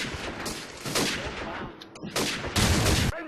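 Gunfire in Call of Duty 4 crackles in loud, close bursts of rapid shots separated by short gaps, with the heaviest volley near the end.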